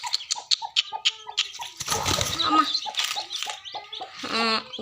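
Chickens cluck in quick repeated bursts, close by, with louder squawking mixed in partway through.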